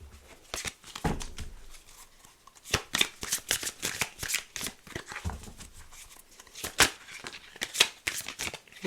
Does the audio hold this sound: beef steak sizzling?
no